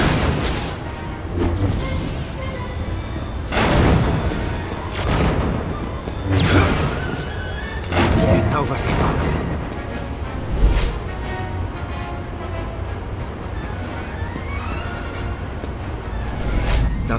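Cannon fire in a Star Wars Episode III: Revenge of the Sith PlayStation 2 mission, with repeated heavy booms landing every couple of seconds over a dense wash of game battle noise, music and effects.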